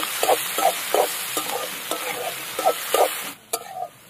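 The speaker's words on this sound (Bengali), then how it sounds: "লাল রঙের ক্যাপসিকাম আর সবুজ রঙের ক্যাপসিকাম একসাথে দিয়ে দেবো। লবণ দিয়ে দেবো, দিয়ে এবার এগুলোকে হালকা একটু ভেজে নিতে হবে।" Red and green capsicum with salt stir-fried in a pan, a steady loud sizzle with a rhythmic scrape of the spatula roughly every half second, close up and continuous.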